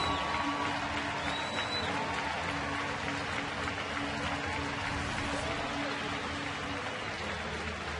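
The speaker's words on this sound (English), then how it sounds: "the crowd applauding a lovely young lady celebrating her 100th birthday at the ballpark tonight" Ballpark crowd at an evening baseball game at Turner Field applauds a woman's 100th birthday, a steady wash of distant clapping that sounds almost like rain, with broadcast commentary over it.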